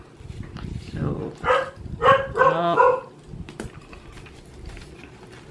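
Several sharp dog barks in quick succession, fairly close, with a person talking over and around them.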